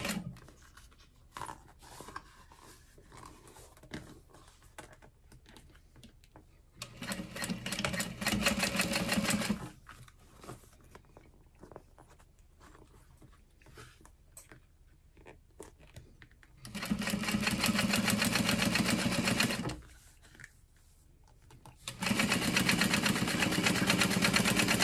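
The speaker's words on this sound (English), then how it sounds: "we're going to top stitch through the back seam. And I like to do this by sewing from end to end." A sewing machine top stitches the back seam of a clear vinyl carry-all, running in three steady whirring bursts of several seconds each, separated by quieter handling noises, with no talk.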